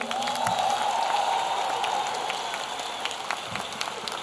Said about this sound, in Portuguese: quero uma salva de palmas para o presidente que mais cuida da educação desse país